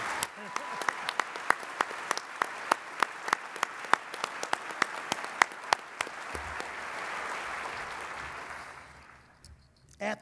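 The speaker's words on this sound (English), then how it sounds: "a very special round of applause" A breakfast banquet audience gives a round of applause for Tim and the program team, many hands clapping with sharp individual claps standing out, gradually fading to quiet with a brief sound at the close.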